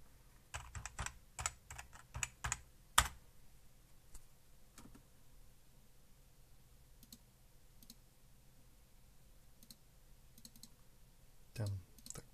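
Typing on a computer keyboard, a quick burst of loud key clicks at the start, then scattered single taps and a final short clatter, close and dry.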